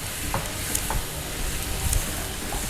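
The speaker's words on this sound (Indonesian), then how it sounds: "Terus kita aduk-aduk deh. Ini ditumis sampai dia agak melayu." Vegetables stir-frying with oyster sauce and soy sauce, a steady close sizzle with a few scraping stirs of a spatula in the pan.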